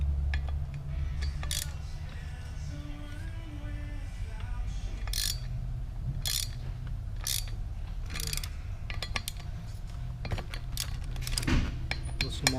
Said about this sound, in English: we'll be taking these Allens off here, size 6